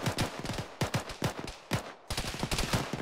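Automatic gunfire in a military video game rattles in repeated bursts of rapid, loud shots, separated by brief gaps and heard up close.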